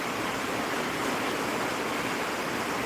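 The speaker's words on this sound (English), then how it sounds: "Out here comes the rain." Steady rain pours outdoors near a workshop, a dense, even hiss that stays constant and fairly close throughout, with no voices.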